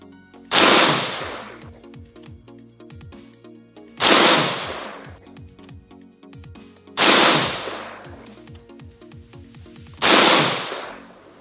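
An Aero Precision M16A4 AR-15 rifle with a 20-inch barrel fires 77 grain 5.56 SMK rounds: four loud, sharp single shots about three seconds apart, each trailing off in a rattling echo.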